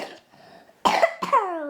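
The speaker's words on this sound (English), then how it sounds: "your broken arm is causing you to cough and everything" A person coughs twice in quick succession, close and loud, each cough sharp and forceful, after a quiet stretch with faint background noise.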